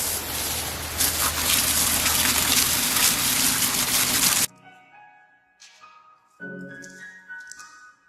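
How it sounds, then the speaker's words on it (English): A water hose sprays hard onto a car surface being rinsed of Plasti Dip, a loud close gushing rush for several seconds that cuts off, followed by quieter dripping and trickling. "so I'm gonna hit it with the water hose."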